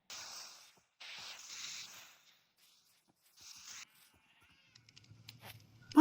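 A few separate bleating donkey calls in modded Minecraft, short braying bursts with silent gaps between, followed by faint clicks and a sudden loud noise at the end.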